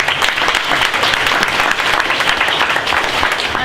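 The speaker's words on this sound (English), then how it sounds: "Can we have a round of applause for that?" A school hackathon audience gives a round of applause for a team's presentation, dense steady clapping from many hands filling the room at close range, loud and continuous throughout.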